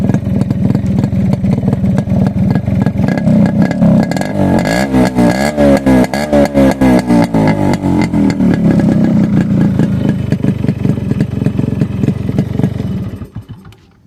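A Yamaha RX100 two-stroke motorcycle engine runs loudly up close, its rapid popping beat steady, briefly revving in the middle before cutting off at the end.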